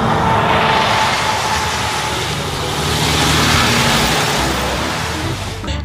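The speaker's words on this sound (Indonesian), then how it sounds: "Ini truk kontainer" A red container truck drives along with a steady broad engine and road roar, loud and close, holding constant throughout without pauses or talk.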